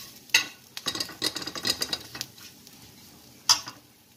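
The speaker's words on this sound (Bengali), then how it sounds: "যার কাছে কাঁচা নারকেল থাকবে তেলের মধ্যে ভেজে নিলেই হলো।" Raw coconut pieces frying in oil while being stirred with a utensil, giving soft scraping clatters and light sizzle with a couple of sharp clinks against the pan, fairly quiet and close.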